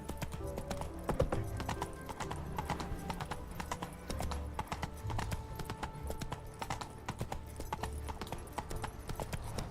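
Steady clip-clop of horse hooves in The Witcher 3: Wild Hunt at a brisk, even rhythm, continuous and close, with a clicky, slightly artificial quality.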